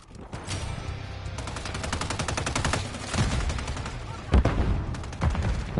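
Gunfire in Call of Duty Modern Warfare 3 multiplayer: sustained rapid automatic bursts with a steady rattling rhythm, a few heavier shots standing out, loud and close throughout.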